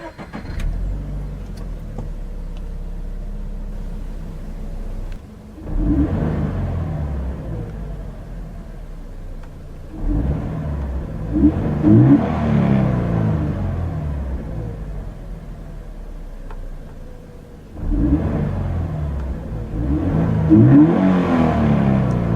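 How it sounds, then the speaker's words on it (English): A 2013 Toyota GT86 TRD engine rumbles at idle and is blipped into loud rising revs in three separate bursts, heard close with no talking. "So let's see how the GT86 sounds."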